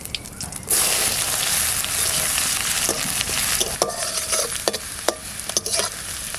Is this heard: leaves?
yes